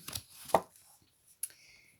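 Tarot cards cut and shuffled by hand: a few quick crisp riffling snaps near the start, a sharp slap around midway, then a brief flick later, all close and clear with quiet gaps and no talking.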